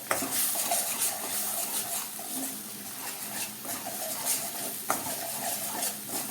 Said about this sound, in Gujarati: આમ ફેરવશું ને તેલની અંદર સારી રીતે ચડી જશે